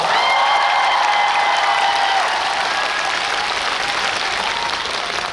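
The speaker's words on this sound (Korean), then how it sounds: "발레 무용수들의 박수 한번 쳐줍시다" A large crowd applauds ballet dancers at a live stage concert in a dense, continuous wash of clapping that stays loud throughout, with a faint trace of a voice near the start.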